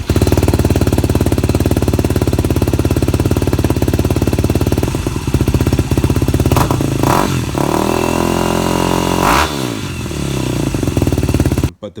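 A Yamaha WR250R motorcycle with an FMF Power Core 4 slip-on exhaust and Mega Bomb header idles with a loud, throaty, popping exhaust, then revs up sharply a couple of times before cutting off abruptly at the end.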